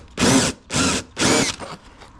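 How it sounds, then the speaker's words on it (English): A power drill runs in reverse, cutting through material during an air-conditioner installation: three loud, close bursts of whirring and grinding, each about half a second long, then a shorter, fainter fourth burst. "So I'm running the drill backwards."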